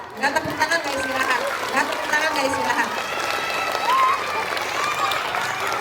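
Audience applause at a school P5 closing ceremony, a steady wash of clapping from a crowd under chatter and a voice speaking over it.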